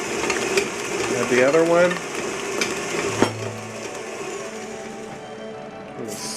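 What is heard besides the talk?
mixer mixing egg into banana cake batter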